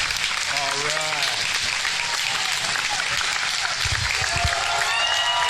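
An audience at a professional wrestling hall of fame ceremony in Alabama applauds loudly and steadily. Dense clapping fills the room, with scattered cheers and voices mixed in throughout.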